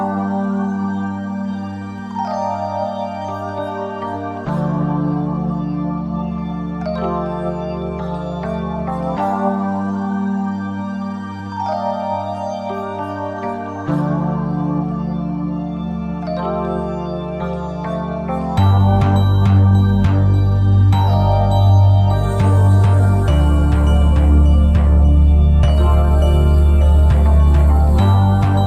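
West Coast-style trap beat loop built in FL Studio around a Keyscape LA Custom Rhodes, looping steadily with chords and melody, then heavier bass and drums kick in near the end for a fuller, louder groove.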